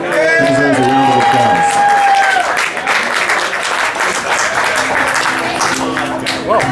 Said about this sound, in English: That deserves a round